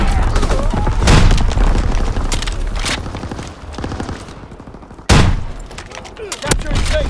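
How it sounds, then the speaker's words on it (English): Mortar rounds exploding in Call of Duty WW2, several loud booming blasts scattered among gunfire, with game radio voices talking between them. "Sending mortar rounds."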